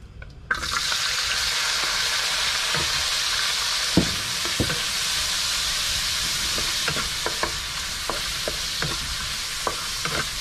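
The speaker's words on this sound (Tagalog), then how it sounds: "Bawasan lang natin yung ating mantika at maggisa na tayo." Onions sautéing in hot oil in a pan give a steady, close sizzle, with occasional soft knocks and scrapes of stirring over the frying hiss; no voices.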